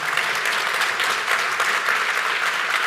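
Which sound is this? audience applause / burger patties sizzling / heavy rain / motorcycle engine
audience applause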